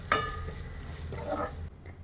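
Unpeeled garlic cloves fry over a low flame, giving a steady close sizzle with a stirring scrape near the start and again partway through, then the hiss drops away sharply near the end.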